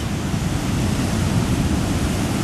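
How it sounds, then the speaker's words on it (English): Big gray ocean waves during Hurricane Sandy surge in a constant, loud, broadband roar of churning surf with wind, close and unbroken, no voices. "It's grayish and there's big waves"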